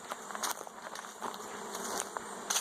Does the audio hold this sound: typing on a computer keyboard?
no